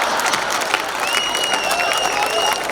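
Sustained audience applause at a Hindi poetry recital in Bangalore, dense steady clapping with murmuring crowd and a few whistling tones above, fairly loud throughout.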